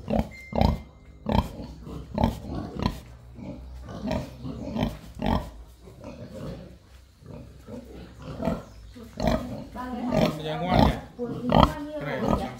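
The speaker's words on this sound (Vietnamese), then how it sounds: "Thế hôm nay thịt cái đàn lợn to này à" Large pigs on a farm in Vietnam grunting and squealing in repeated close bursts, with people talking over and between the animal calls.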